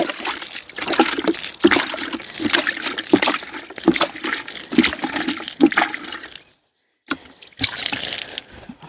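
Water is poured from a container onto sprouting garden greens. It makes close, continuous splashing and trickling, stops briefly near the end, then resumes.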